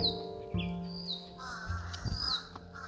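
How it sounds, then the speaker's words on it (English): Crows caw overhead in a Miami neighbourhood, several harsh calls in a row mixed with higher chirps, fairly close and clear over a low traffic rumble. "There's a bird up there, Leonidas."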